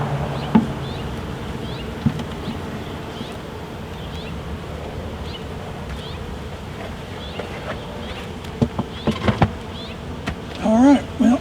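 A crowd of honeybees drones steadily around an opened backyard hive during a June inspection, a dense constant buzz with occasional louder passes near the microphone and a few clicks and knocks of handling.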